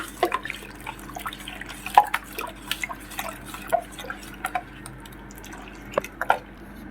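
Spiced panipuri water with black salt and panipuri masala being stirred in a bowl, giving soft sloshing and scattered clinks of a spoon at irregular intervals, fairly close and alone without voices.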